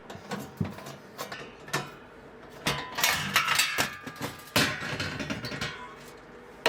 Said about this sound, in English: There will be 4 screws holding in your internal backplate. Unscrew all of these and then remove the backplate.